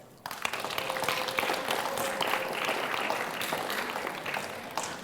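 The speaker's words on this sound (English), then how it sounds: "Clap for that." Roughly a hundred students at a youth empowerment conference break into applause, a sudden onset of steady, fairly close clapping that holds for several seconds with scattered cheering.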